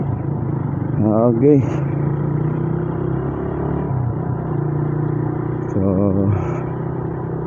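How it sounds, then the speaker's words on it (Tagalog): Steady road traffic rumble heard from a Raider 150 motorcycle riding along a busy road at peak hours, with brief engine revs rising over the drone and someone speaking now and then. "medyo traffic na dito mga paps sa amin"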